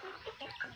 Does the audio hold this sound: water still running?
no